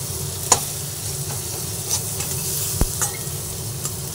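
Whole spices sizzle in hot oil in a pan while a spoon stirs them, giving a continuous soft crackle with occasional scrapes and clinks against the metal, close and without talk.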